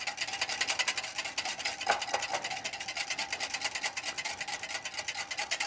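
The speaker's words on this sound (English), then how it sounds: "We got to get them stirred up a little bit." Eggs being stirred in a bowl while making hash brown breakfast cups: a steady, rapid scraping whisk rhythm, close and fairly quiet, running continuously without talk.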